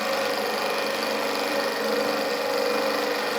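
A small Stirling engine running steadily at speed, giving a continuous close mechanical whir and hum with fine rapid fluttering, with no voices.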